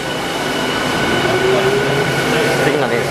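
A Saitama Rapid Railway train rumbles into a Tokyu line station with a steady low roar, a faint squeal of wheels, and rising mechanical noise close by.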